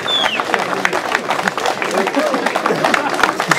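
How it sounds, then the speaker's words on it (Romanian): A crowd applauds at an amateur K-1 kickboxing cup award ceremony in Moldova, the many hands clapping in a busy, uneven patter with voices mixed into the noise. "Aplauze!"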